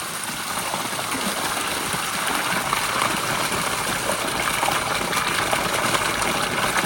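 Running water gushes steadily into a bucket, a continuous broadband splashing and rushing that holds even throughout, with no talk over it.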